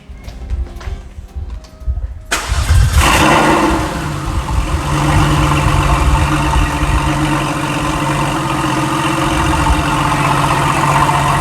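A Porsche 993 911 engine starts with a sharp burst, then settles into a loud, steady idle close by, with a low rumble throughout.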